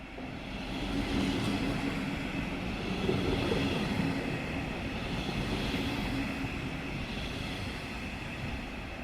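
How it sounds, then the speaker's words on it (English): A train rumbles steadily past on the railway near Pfaffenthal-Kirchberg station in Luxembourg, a broad continuous roar heard from a short distance, swelling slightly midway. "look down at the railway lines and see the trains passing"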